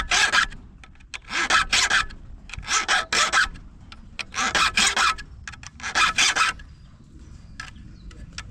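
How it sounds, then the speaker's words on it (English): A hand saw being sharpened with a file, rhythmic rasping strokes in short bursts of two or three with brief pauses, close and fairly loud, with no voices. "Sharpening of the saw."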